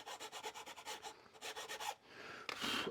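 A metal file is drawn along the fret ends of a guitar, giving a quick run of close, dry rasping strokes that pause briefly and resume, with a faint scrape near the end.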